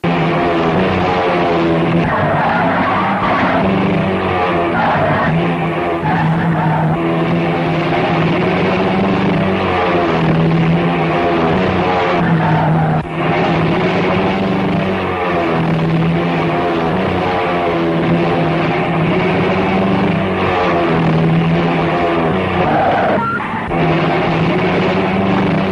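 Loud, continuous engine drone with a wavering pitch, like motorcycles riding close by, with no pauses.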